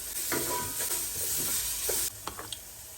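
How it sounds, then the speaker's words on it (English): Minced ginger and garlic sautéing in a pot for sweet potato soup, giving a close, steady sizzle with a few stirring scrapes that quiets abruptly near the end, leaving faint taps. "2 tablespoons of ginger, saute for additional 1 minute."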